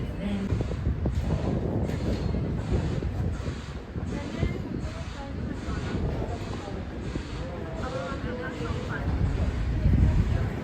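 Train pulling into a suburban station near Parramatta, Sydney, with a steady low rumble and broadband roar that swells toward the end, buffeted by wind noise on the microphone and mixed with voices in the background.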